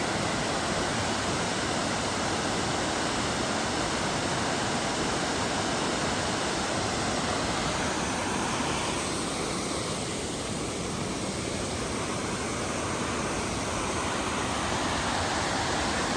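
Silver Falls waterfall rages into North Fork Silver Creek in an Oregon state park, a loud, unbroken roar of falling water that holds steady throughout with no voices.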